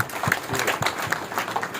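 Audience clapping at a plenary meeting to approve a resolution, a steady wash of many hands applauding together, moderately loud and continuous, with no speech over it.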